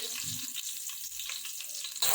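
Curry leaves crackling in about two spoons of hot oil already holding cumin and fenugreek, tempering for a Chettinad fish curry; a close, bright sizzle that swells briefly, then rises sharply as the last leaves hit.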